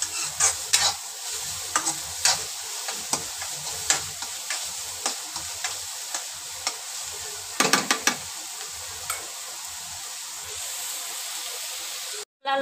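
Onion frying in a pan until reddish, a continuous bright sizzle punctuated by repeated sharp scraping stirs of a spoon, close-up, ending with a brief cut near the end.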